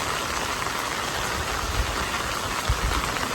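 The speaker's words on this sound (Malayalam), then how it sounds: "ഈ മഴയത്ത് ഞാൻ ഈ കുടയൊക്കെ ചൂടിയിട്ട് പുറത്തേക്ക് ഇറങ്ങിയിരിക്കുന്നത്" Summer rain patters on an umbrella outdoors near a farm in Canada, a steady close hiss with a few soft thumps from drops and no talking.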